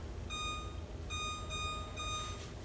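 Three electronic beeps from an oven timer being set to bake a pound cake, heard as a short bright tone, a longer one and then another, faint over a low background hum.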